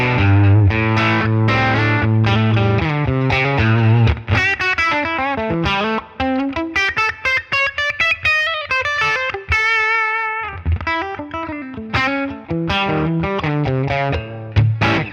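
Electric guitar through a Line 6 Helix amp model with plate reverb, played alone as sustained, distorted melodic lines and chords with a lush, wet tail that stays loud throughout.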